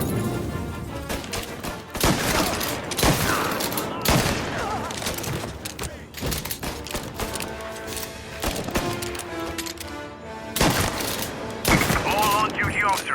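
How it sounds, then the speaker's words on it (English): Gunfire in Mafia Definitive Edition: a sustained fusillade of shots and bursts, loud and close, running almost continuously with brief lulls, with faint shouted voices mixed in. "All on-duty officers, gunshots being reported."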